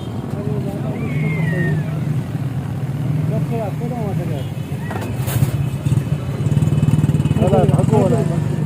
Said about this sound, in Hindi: ये गाड़ी रिवर्स आ रही है